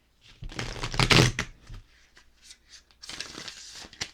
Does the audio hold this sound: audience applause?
no